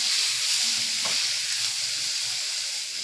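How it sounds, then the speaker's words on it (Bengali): Onion, tomato and spice masala frying in oil gives a dense, continuous sizzle close by, with a brief stir scrape partway through and no talking. "পেঁয়াজ টমেটো দিয়ে মশলাটাকে আবার একটু ভালো করে কষিয়ে নেব"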